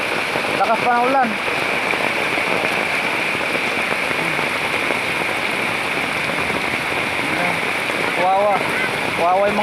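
Heavy rain pouring steadily on surfaces during flooding, with water entering a house, a dense constant hiss, with brief bits of speech near the start and end.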